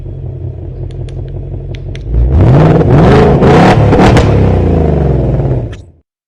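A real car engine revs loudly and steadily, started remotely with the key fob, rising from a low idle into a sustained roaring rev for several seconds before cutting off abruptly.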